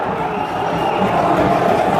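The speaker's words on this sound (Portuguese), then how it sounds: "Tô gravando com a torcida gritando que vergonha." Santos football fans in a stadium chanting together after a heavy defeat, a dense, loud, continuous roar of massed voices filling the whole moment.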